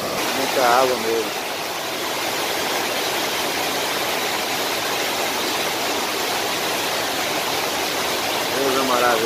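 Water overflowing the spillway of the Acopiara dam in Ceará: a loud, steady roar of rushing, falling water fills the whole stretch, with brief bits of distant voices near the start and end.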